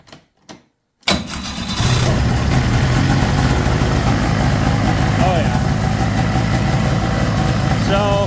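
A Ski-Doo Rotax 617cc twin snowmobile engine coughs a couple of times, fires up and settles into a loud, steady idle after an idle-screw adjustment, running continuously and close by.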